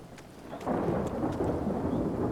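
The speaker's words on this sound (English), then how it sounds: "look, it's raining" Steady rain hisses with a low rumble of thunder swelling under it, soft and even throughout, with no voices, in the video game Thronebreaker: The Witcher Tales.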